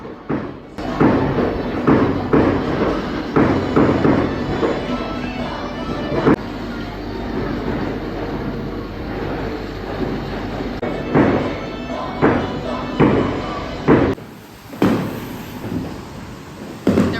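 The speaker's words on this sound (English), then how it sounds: "Probably would be a lot more fireworks going off than this" Repeated dull booms and thuds of Chinese New Year fireworks at a distance, irregularly spaced, over a constant background hiss like rain.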